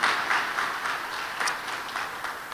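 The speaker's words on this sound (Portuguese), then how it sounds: "Vamos aplaudir ao Senhor pela vida deles?" A church congregation applauds steadily, a dense even patter of many hands clapping for a few seconds without any voice over it.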